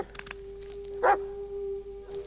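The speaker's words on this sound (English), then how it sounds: "What are you barking at?" A single short dog bark in the horror game Blair Witch, moderately near, over a steady low hum and quiet ambience.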